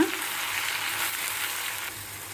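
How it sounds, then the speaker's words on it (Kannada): Boiled elephant foot yam pieces stirred into hot sizzling oil tempering for a palya curry, giving a steady loud frying hiss with faint stirring scrapes throughout. "ಇವಾಗ ಬೇಯಿಸಿದ ಹೋಳುಗಳನ್ನು ಹಾಕ್ಕೊಳ್ಳೋಣ ನೋಡಿ ಹೋಳುಗಳನ್ನು ಮತ್ತು ಈಗ ಒಗ್ಗರಣೆ ಜೊತೆ ಒಂದು ಮಿಕ್ಸ್ ಮಾಡೋಣ"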